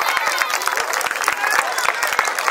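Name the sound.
audience applause at a school annual function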